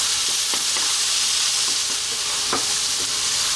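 Garlic and fresh chili fry in a pan over medium heat, producing a steady bright sizzle with occasional soft stirring scrapes, close and continuous without any talk.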